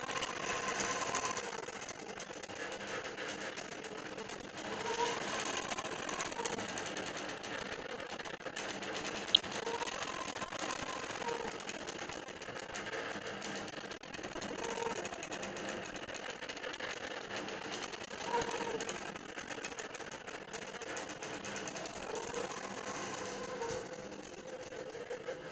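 A longarm quilting machine stitches a quilt, its motor humming steadily under a rapid, even needle rhythm that runs continuously and fairly close.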